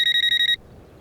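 A telephone rings in a loud, rapid electronic trill for about half a second, then cuts off abruptly, leaving faint room noise.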